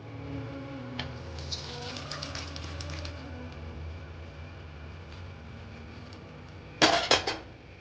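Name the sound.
pouring cooked gongura dal into strainer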